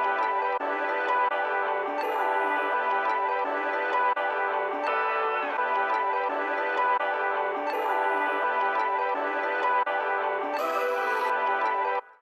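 A chopped melody loop for a boombap beat repeats in dense, even layers of sampled tones, steady and moderately quiet, with brief bright bursts recurring every few seconds and no voices.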